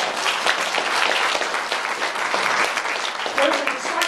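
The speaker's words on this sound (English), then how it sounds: "Let's clap for that" Sustained audience applause fills the room at a talk, a dense steady wash of many hands clapping with no pauses, loud and close throughout.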